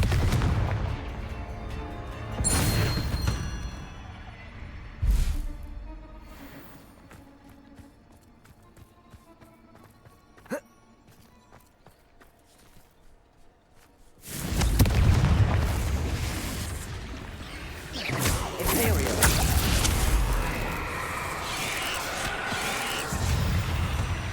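Explosive Bombarda and Confringo spell blasts in the video game Hogwarts Legacy: scattered booming impacts early on, then a long loud stretch of dense crashing blasts and rumble.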